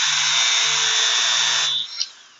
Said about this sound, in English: Sometimes when your polishing wheel turns black, you need more compound.